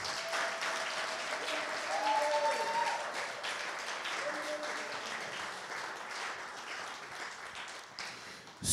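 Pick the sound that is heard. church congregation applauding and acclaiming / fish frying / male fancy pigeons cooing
church congregation applauding and acclaiming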